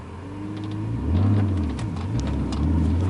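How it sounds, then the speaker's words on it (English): A BMW E46 pulls away in first gear, its engine note rising and settling as the clutch engages, close and steady over about three seconds with no talk. "apparently pulling away in first gear feels totally different"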